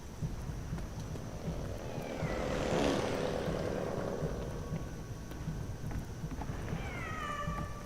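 A cat meowing in the World War I video game 11-11 Memories Retold, with a couple of clear rising meows heard over a droning engine-like background rumble that swells in the middle.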